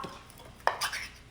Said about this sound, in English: You literally pop the top